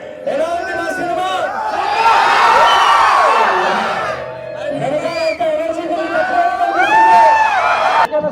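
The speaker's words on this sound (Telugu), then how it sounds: "ఈ అరుపులు, ఈ కేకలు, దీనికోసమే మేము సినిమా తీసింది." A large crowd cheers, whoops and shouts loudly at a film promotion event in Tirupati, surging in waves with brief dips between bursts.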